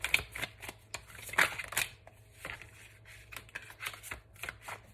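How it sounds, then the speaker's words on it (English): Tarot cards being shuffled by hand in irregular bursts of crisp riffling and slapping, close up, with short pauses between. "I'll go ahead and put them back in and continue shuffling."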